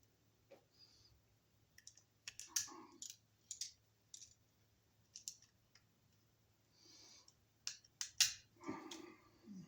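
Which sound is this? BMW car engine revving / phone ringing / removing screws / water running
removing screws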